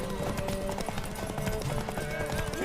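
Galloping horse hooves drum quickly and continuously during a race in The Witcher 3: Wild Hunt Remastered on PS5, with a faint neigh and game music underneath.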